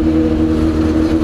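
A Yamaha FZ6N motorcycle engine roaring steadily close by, with a rough, sputtering edge as it pulls under acceleration, loud and continuous with no talk.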